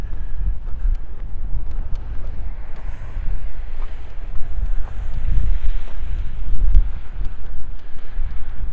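Wind gusts steadily buffet the microphone during a winter walk past a gas station on South Rae and Albert Streets in Regina, a continuous low rumble swelling and easing with no talk over it.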